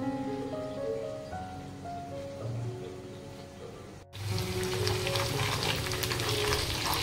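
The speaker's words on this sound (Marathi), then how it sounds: "गार्निशिंग साठी कांदा फ्राय करायचं काम चाललं आहे आधीचं" Onions frying in a pan as a garnish for prawn biryani, a steady hiss and crackle that swells sharply midway, as if stirred or given more heat, close and continuous with no talking.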